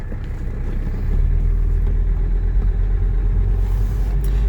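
A 1985 Mercedes 300TD diesel wagon drives on a hot Georgia road, its engine a steady low rumble that swells slightly as it gathers speed, close and continuous with no talking.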